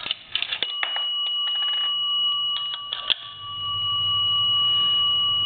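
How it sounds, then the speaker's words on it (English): A nickel drops into a chrome A&E three-slot payphone under repair, sounding one clear ring from its bell with a lingering metallic tone after the clatter of coin mechanism clicks. "Nickel should ring once, a bell."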